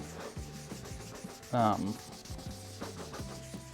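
Soft, repeated hand-rubbing strokes work finish into sanded guitar wood up close, a quiet rhythmic friction with one brief louder scrape partway through.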